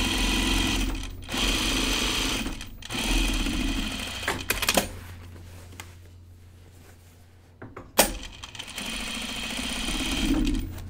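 A sewing machine runs in bursts top stitching a jean jacket, loud steady whirring runs broken by short pauses and sharp clicks, close and alone with no voices.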